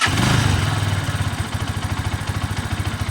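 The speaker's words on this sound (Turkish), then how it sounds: "Motorumuz gayet sağlıklı ve sıhhatli çalışıyor." A Mondial Drift L 200cc motorcycle engine starts and settles into a close, even idle, its rapid rhythmic chugging loud and alone.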